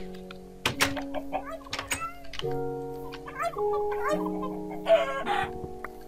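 A chicken clucks in the Minecraft video game, several short blocky clucks over sustained background music tones, with a few clicks and game effects mixed in.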